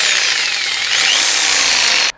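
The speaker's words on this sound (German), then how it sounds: "Und dann habe ich die Stichsäge genommen." A jigsaw cuts through a thermoplastic case, a loud continuous high buzzing rasp lasting about two seconds before stopping abruptly.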